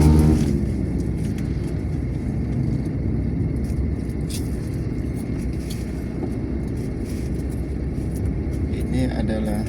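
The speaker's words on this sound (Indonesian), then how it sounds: "Kendaraan besar sudah mulai melintas di Jalan Lintas Timur ini." Heavy trucks and buses roll along a busy, congested stretch of the Jalan Lintas Timur highway in Ogan Komering Ilir, South Sumatra, a steady loud rumble of passing engines and tyres filling the whole span.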